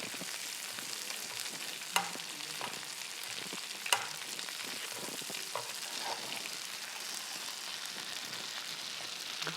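Steak frying in a pan with garlic butter, a steady soft sizzle and crackle with a few sharp spatter pops, close and fairly quiet, no talking.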